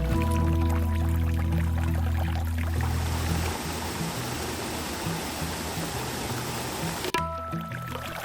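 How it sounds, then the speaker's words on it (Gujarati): A river flowing out of a village and a nearby waterfall in Saputara, Dang district, Gujarat, make a constant broadband rush. At first it sits under loud music, then it carries on mostly alone at a moderate level. "ગામમાંથી નીકળતી નદીનો પ્રવાહ અને અહીંયાના ઝરણાનો અવાજ"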